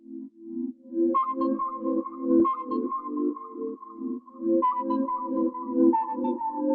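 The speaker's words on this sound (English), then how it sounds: "once I added this delay with a really heavy feedback so it fills out the space in the sample" A sustained, ringing bell-like tone with long delay repeats stacking into a dense, continuous wash, steady and fairly loud throughout.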